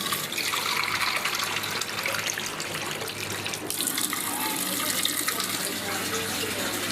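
A kitchen tap runs water into a vessel for making tea, a steady close hiss of flowing water with a slight change in pitch midway, fairly quiet and without talk.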